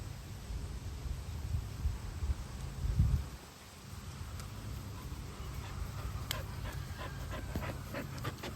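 Puppies panting outdoors on a sunny day in Texas, a soft steady breathy rhythm close to the microphone over low background noise, with a brief louder scuffle near the middle.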